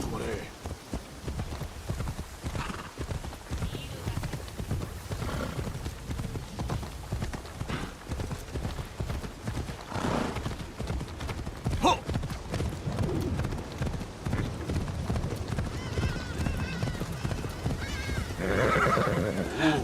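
Horse hooves clip-clop steadily through a video game horse archery training ground, with whinnies and neighs rising over the hoofbeats; someone talks over much of the sound.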